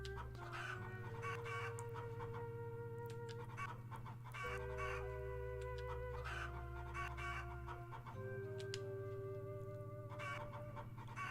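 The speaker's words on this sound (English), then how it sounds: "there's the sound, the chicken sound from Legend of Zelda. Well, a bunch of different games actually use that chicken sound." In the video game Chulip, a chicken sound effect clucks over steady game background music, recurring in short groups against looping synth tones.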